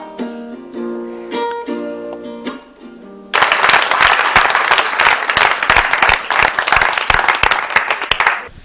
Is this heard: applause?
yes